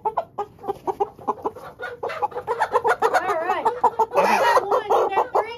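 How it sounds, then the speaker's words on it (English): Several backyard egg-laying hens cluck close by in a rapid, uneven run of calls that grows busier and louder, with a brief squawk near the end and a person speaking faintly underneath. "Yep, four chickens."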